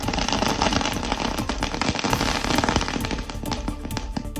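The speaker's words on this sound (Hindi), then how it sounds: "छत्तीसगढ़ के सुकमा में जमकर आतिशबाजी हुई" Dense fireworks and firecrackers crackle and pop in rapid, overlapping bursts during an outdoor celebration in Sukma, Chhattisgarh, loud and continuous throughout.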